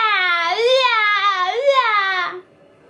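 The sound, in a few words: baby crying in a told story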